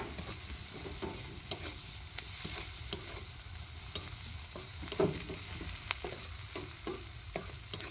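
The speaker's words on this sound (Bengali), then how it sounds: "আমাদের সাথেই নুডলস রান্না কীভাবে হচ্ছে" Noodles fry and get stirred in a pan at an outdoor field picnic, giving a continuous close sizzle broken by frequent scraping clicks of the utensil against the pan.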